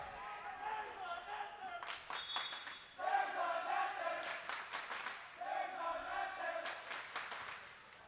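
A student section at a girls varsity volleyball match cheers and claps in a packed gym, the crowd noise sustained throughout with sharp claps and shouts rising over it.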